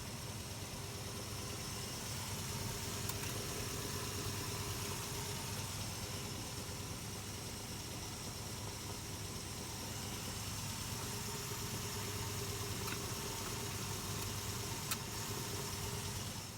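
A Chevrolet Nova's engine idles steadily on level ground with the transmission warmed up, a continuous low rumble with a faint mechanical hum, close and even throughout with no voices.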